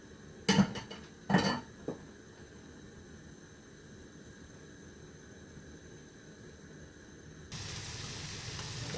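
A lamb steak going onto a grill: two sharp metallic clatters of cookware near the start, a quiet stretch, then a hissing sizzle rising at the end.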